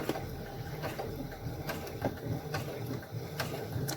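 A Brother Innov-is F420 sewing machine runs at slow speed, giving a steady mechanical whir with regular light clicks from the needle mechanism, close and continuous with no talking.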